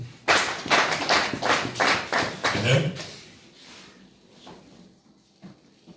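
A church congregation claps in a loud, fast, even burst of about a dozen claps over three seconds, then fades to a few scattered taps.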